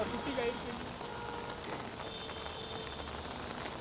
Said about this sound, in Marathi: नागपुरात काल रात्रीपासून मुसळधार पाऊस पडतोय